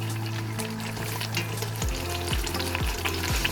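Lime leaf frying in about 100 ml of hot oil for an Indonesian beef soup, a dense close sizzle with crackles and stirring, no voices.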